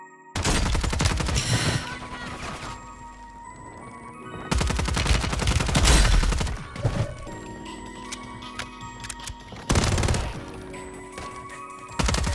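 Rapid SMG bursts from a Superi 46 submachine gun in a first-person shooter, loud dense gunfire in three heavy stretches with quieter crackling shots and game effects between them.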